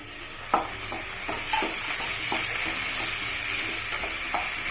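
Chopped tomatoes tipped into a pan of sautéed onions for beetroot chutney, a steady sizzle with repeated scraping knocks of a spoon stirring, close and moderately loud, no talking.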